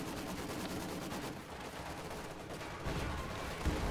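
Maxim machine gun fire in Company of Heroes 2, a continuous dense rattle of rapid bursts mixed with other gunfire, loud and steady with a brief lull partway through.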